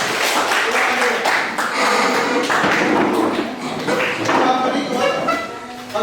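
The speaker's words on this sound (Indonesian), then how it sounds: "tepuk tangan untuk kita semua" A group in a classroom gives a round of applause, a busy wash of overlapping claps and taps that holds steady, with some voices mixed in.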